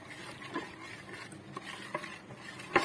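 A spoon stirs tempe kremes batter mixed with water in a bowl, making soft close sloshing and light scrapes with a few small clinks, quiet and without talk.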